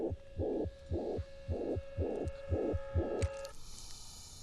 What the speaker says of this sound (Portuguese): Um clichê muito usado é o de um coração batendo, que Estrada da Fúria aproveita muito bem nesse momento